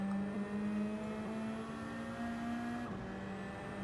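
Group 3 race car engine in Gran Turismo 7, a loud, steady high-pitched engine drone holding near-constant revs, rising slightly before a brief dip and recovering, with no talking.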